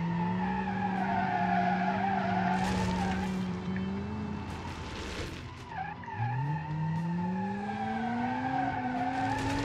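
A 300 HP AWD hatchback in BeamNG cornering with broken suspension, a loud engine drone shifting pitch as the tires skid and squeal through a long slide, engine close and prominent.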